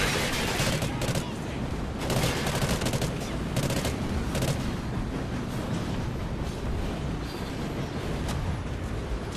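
Dense, continuous gunfire in Call of Duty: Ghosts during an escort mission: overlapping rapid shots and booming bursts at steady high volume throughout, with a voice talking faintly underneath.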